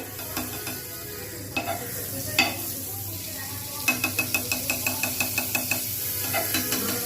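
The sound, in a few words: butter sizzling in a frying pan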